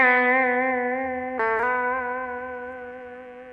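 A sustained electric guitar note rings out with clean harmonic overtones, then a quick bend and slide shifts the pitch partway through before the tone decays slowly, played alone and close.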